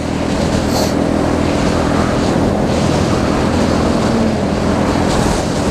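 Strong wind buffets the microphone in a steady, loud roar, with a broadband rush and low rumble throughout and no talking.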